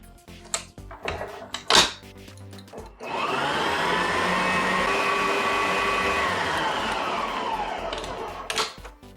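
An electric mixer whirs steadily through mint chocolate cookie dough, a loud continuous motor drone lasting several seconds, preceded and followed by clattering bowl knocks and handling noises.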